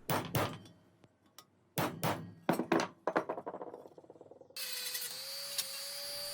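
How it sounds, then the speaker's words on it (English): A chisel strikes a copper shaft being shaped for a feather incense burner, in bursts of sharp metallic taps that grow into a fast run of clinks before a steady high whine takes over. "chiseling in the shaft"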